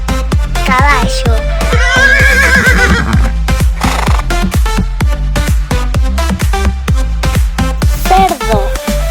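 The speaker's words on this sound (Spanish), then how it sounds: "Caballo." A horse whinnies and neighs over a bouncy children's song with a steady beat, the shrill, wavering call rising clearly above the music.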